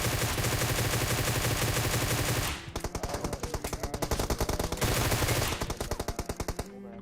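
Sustained automatic gunfire in PUBG Mobile, a rapid loud stream of shots running almost without pause, briefly thinning into separate bursts before resuming at full intensity.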